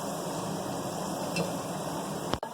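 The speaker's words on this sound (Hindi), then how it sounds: "एक 2 मिनट अच्छे से हम इसे भून लेंगे ताकि इसकी भी खुशबू इन मसालों के साथ मिक्स हो जाए।" Masala roasting in a pan for Sindhi chicken biryani, a soft, continuous low sizzle heard close, with a sharp clink near the end.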